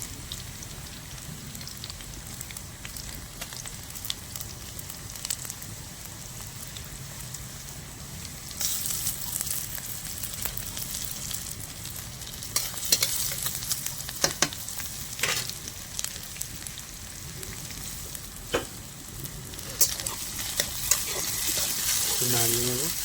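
Chopped onion, ginger and garlic fry in hot oil for chicken kosa, making a soft, steady sizzle. Occasional brief scrapes and clinks of stirring break through it now and then.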